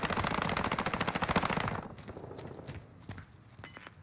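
Enemy automatic gunfire in Call of Duty Warzone, a loud rapid burst of machine-gun shots for about two seconds, followed by scattered single cracks and softer distant shots.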